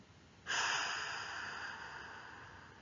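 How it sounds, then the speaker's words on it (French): A slow, steady exhale during a guided sophrology breathing exercise: a soft, breathy rush starts abruptly and fades gently over about two seconds, alone and close. "Puis, expiration."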